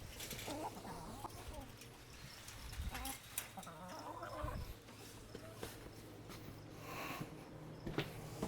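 Backyard chickens, young birds now grown large, cluck and murmur softly and continuously amid a faint farmyard background while someone talks over them.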